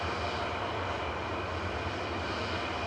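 A Ryanair Boeing 737-800 lines up for departure to Berlin at Manchester Airport, its engines giving a steady, distant broadband roar that holds evenly throughout with no voices.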